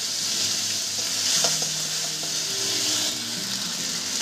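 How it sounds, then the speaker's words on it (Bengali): A slit tomato fries in hot oil with a bay leaf, dried red chili, nigella and cumin seeds for a spicy fish curry. A steady, close sizzle runs throughout with occasional soft stirring scrapes and no talking. "আর এর মধ্যে দিয়ে দেবো একটা চেরে রাখা টমেটো।"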